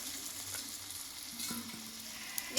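Pointed gourd (potol) stir-fried in spice paste for a vegetarian peanut potol dish, a quiet, steady sizzle with a few soft stirring scrapes and a small clink near the end.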